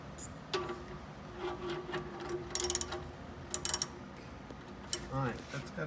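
Socket ratchet loosening the oil drain plug on a 1967 Ford Mustang with a 289 V8, giving short bursts of close metallic clicks in a few separate runs over low background noise.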